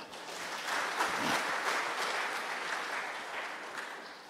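A church congregation claps during a Christmas service, soft and somewhat distant applause swelling slightly and then easing off, even and sustained without voices on top.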